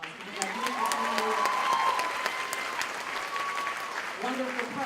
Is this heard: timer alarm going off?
no